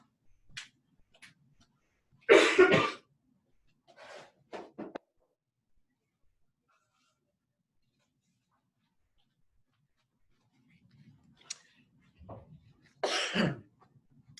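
Two loud, harsh coughing bursts separated by a long quiet stretch, with a few smaller throat sounds and faint noises in between.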